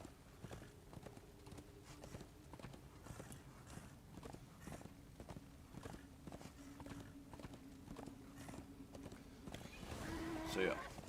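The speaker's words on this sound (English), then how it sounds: "there will be a lot more running around on the horse in this game" Horse hooves clip-clop at a running pace in the Darksiders 2 video game, a steady patter of hoofbeats mixed with game music and some talk, swelling louder near the end.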